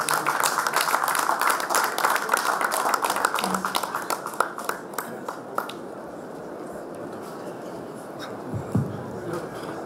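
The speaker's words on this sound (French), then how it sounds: "Je vous invite à l'applaudir très très fort." Audience applause at the Morocco Dental Expo 2019 trophy presentation, brisk dense clapping for several seconds that thins out into scattered claps and quiets down.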